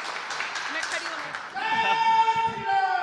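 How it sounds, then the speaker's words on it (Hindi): Crowd applause at a public gathering in Gautam Buddh Nagar, a broad wash of clapping that swells and grows louder toward the end, with voices mixed in. "तालियां बजाइए।"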